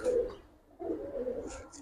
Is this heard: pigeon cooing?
yes